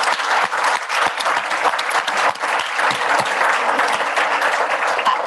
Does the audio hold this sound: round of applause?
yes